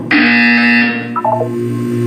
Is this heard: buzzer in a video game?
yes